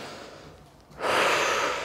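A person breathes during a gentle cardio workout: a soft, quiet intake, then a louder, rushing exhale that holds for nearly a second, close to the microphone with no talking.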